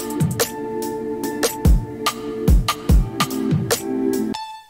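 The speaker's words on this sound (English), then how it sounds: "That ducking sound you hear from the pad is coming from the sidechain here" Electronic music with a sustained pad that pumps and ducks in rhythm from sidechaining against punchy kick and snare hits, then cuts off abruptly at the end.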